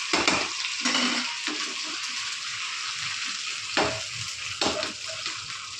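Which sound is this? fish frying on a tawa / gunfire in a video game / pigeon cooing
fish frying on a tawa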